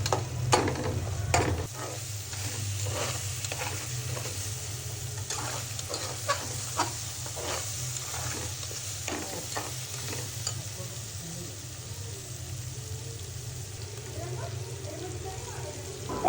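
Crab is stirred in a pan with cumin, spice and turmeric powder, giving repeated scraping strokes over a low, steady sizzle; the stirring is heard close and fairly quiet, under a speaking voice.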